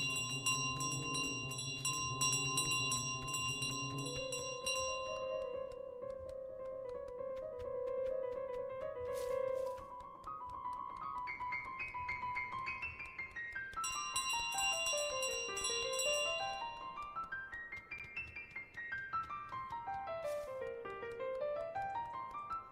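Bright chiming tones from a bell in Untitled Goose Game ring over a busy musical backdrop, with repeated clear rings, then rising and falling tonal sweeps, steady and loud, no talking.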